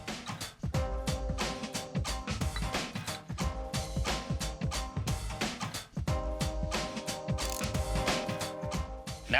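Ratcheting of a hand tool tightening a wheel bearing lock nut on a Jeep drum brake assembly, rapid repeated clicks in steady bursts, close and loud with metallic gear-like chatter throughout.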